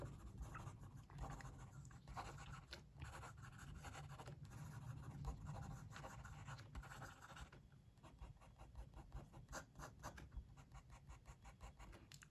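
A Fifty4T Titan fountain pen with a non-flex nib scratches quickly across paper in a continuous faint, close scribble of rapid strokes, with no talking.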